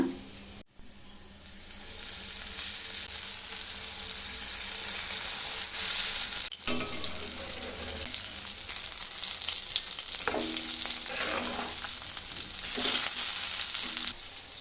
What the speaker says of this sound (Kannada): ನೋಡಿ ಫಿಶ್ ಫ್ರೈ ರೆಡಿ ಆಗ್ತಾ ಇದೆ ಎರಡು ಕಡೆ ಕೂಡ ಚೆನ್ನಾಗಿ ಫ್ರೈ ಮಾಡ್ಕೊಳ್ಳೋಣ